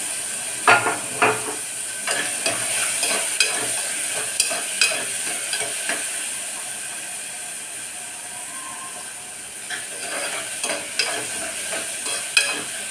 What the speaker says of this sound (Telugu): కలుపుతున్నాం.